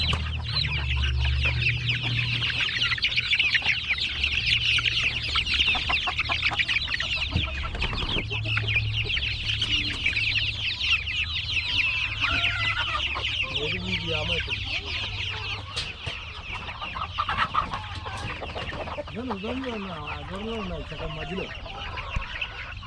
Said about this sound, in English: So how many chickens do we have here approximately?